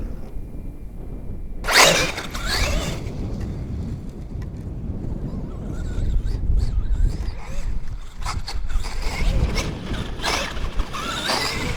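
A Traxxas XMaxx RC truck with a worn gear runs on the Silver Lake sand dunes, giving off intermittent rasping, grinding bursts. The mechanical sound comes and goes over gusty wind noise outdoors.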